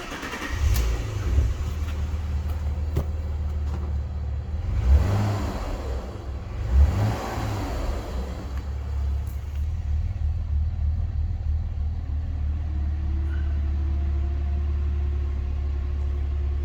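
A super-low-mileage Alfa Romeo 156 V6 cranks and fires, then settles into a deep, steady idle with a couple of brief blips of revs, heard near the car without talk.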